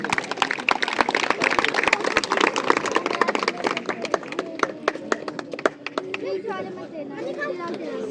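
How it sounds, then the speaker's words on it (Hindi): Applause and clapping from an audience at an outdoor road inauguration ceremony, a dense run of sharp claps that thins out toward the end while voices chatter underneath. "जोरदार तालियां आपके लिए भी।"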